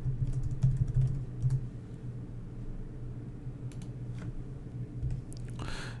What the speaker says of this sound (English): click on New, and type in the name of my vendor